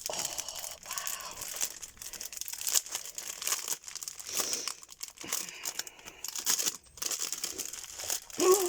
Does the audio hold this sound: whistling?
no